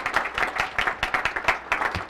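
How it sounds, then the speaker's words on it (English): An audience at a 2015 Washburn Tech letter of intent signing day event breaks into steady applause, many hands clapping at a moderate distance in an even, sustained patter. "Let's have another round of applause for Dean Coco"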